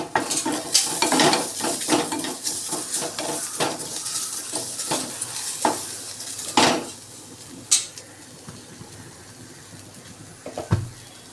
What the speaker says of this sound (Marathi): आज डब्यासाठी बनवत आहे पनीरची मस्त अशी ही भाजी बनवत आहे